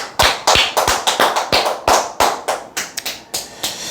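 An audience claps at a lecture, a steady run of loud, close claps that blur into a rapid rhythm for about four seconds, with no voices over them.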